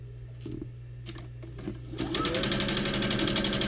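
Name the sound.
sewing machine stitching quilt seam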